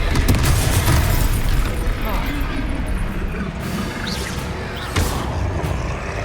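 Confringo explosion spell in Hogwarts Legacy: dense, loud booming blasts and rumbling debris, with a fresh burst near the end, amid game effects and combat noise.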